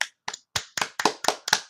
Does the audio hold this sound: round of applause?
yes